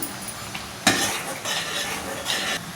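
Spoon scraping and stirring through dal khichda in a metal pot, a few soft, close strokes with light clinks, quiet and alone.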